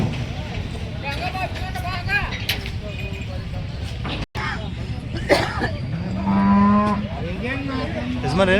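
Deep, drawn-out lowing of bulls amid the busy outdoor Haunsbhavi cattle market, with people talking throughout and one long, loud moo near the end.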